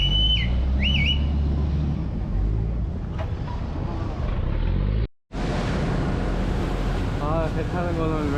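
A boat ride on the Chao Phraya river in Bangkok, with a steady roar of wind buffeting the microphone and rushing water and engine noise underneath. A brief dropout cuts in midway before the rush resumes, and faint voices come through.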